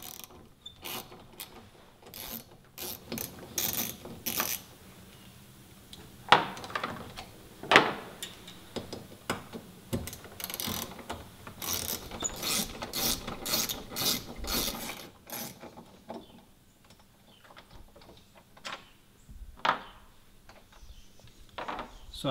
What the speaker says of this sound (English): Take your Allen wrench and loosen them.